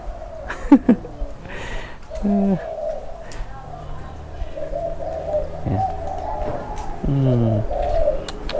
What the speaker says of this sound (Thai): ตัวนี้ก็เหมือนจะคูนะครับ